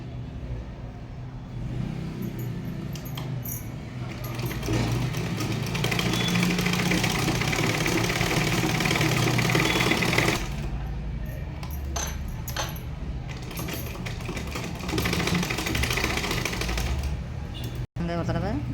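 A sewing machine stitches a lined blouse in a fast, loud, continuous mechanical whir that runs almost the whole time, pausing briefly mid-way, then restarting and stopping with a sharp click near the end.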